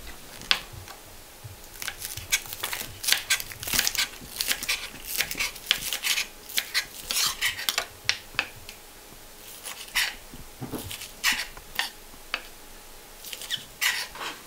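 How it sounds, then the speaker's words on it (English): Knife chopping fresh green onions on a cutting board for a small batch of green seasoning, a fast run of sharp, close taps of uneven rhythm, with no talking. "So now we're gonna chop up the green onions."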